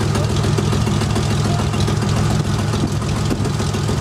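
A car engine idles and runs with a steady low rumble during a driving lesson, close and continuous, with faint voices briefly underneath.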